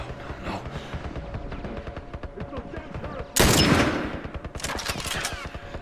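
Machine gun fire in The Last of Us, rapid bursts of automatic shots rattling throughout, with a sudden loud close blast partway through and more gunfire after.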